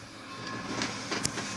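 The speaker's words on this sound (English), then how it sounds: "And that is a train you can hear a-going." Rumbling, rushing noise of a passing train with faint rhythmic clatter and a sharp metallic click near the end.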